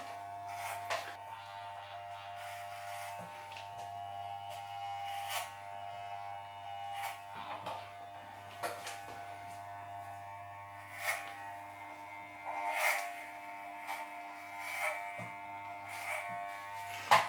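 Steady electric buzz of hair clippers running close by, with small rustles and clicks as they move through hair, no talking.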